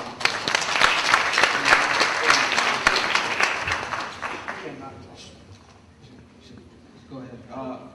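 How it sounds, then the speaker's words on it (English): An audience claps for a panelist at a panel discussion, a dense burst of many hands that stays strong for several seconds, then thins and fades out, with a voice rising afterward. "she deserves a round of applause"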